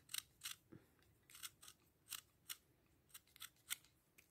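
Scissors snip through denim from old jeans while a circle is cut out, a quick uneven series of crisp, close, quiet crunching cuts with short pauses between them.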